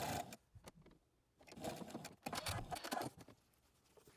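Sewing machine stitching darts on a fabric face mask, short bursts of rapid mechanical stitching separated by brief pauses, close and moderately loud.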